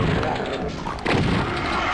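A shotgun enemy blasting in the Doom video game, a loud booming shot with a second heavy blast about a second later, dense and close amid game noise.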